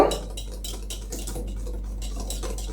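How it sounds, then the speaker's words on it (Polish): A utensil beats eggs, sugar and buttermilk together in a bowl for a chocolate strawberry cake, giving a steady run of quick, close clinking and tapping strokes against the dish with no talking. "i mieszam, żeby się składniki po łączyły"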